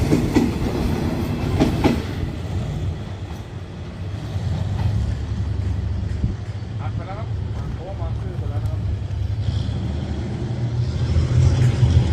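A passenger train rumbles past on the Bang Sue curve in Thailand, a steady heavy roll with wheel clatter and faint squeals rising mid-pass, heard from trackside and staying loud throughout.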